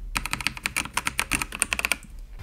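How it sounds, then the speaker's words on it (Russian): Fast, even typing on a Dexp Omni budget quiet full-size mechanical keyboard, a steady run of crisp close key clicks for about two seconds before it stops. "Вот так вот еще раз она звучит, это клавиатура от фирмы Dexp."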